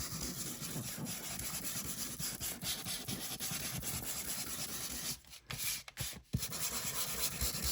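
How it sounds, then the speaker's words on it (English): Steady, close rasping of sandpaper rubbing back and forth along the edges of paper junk journal inserts, broken briefly by a few short pauses near the end. "sand around the edges"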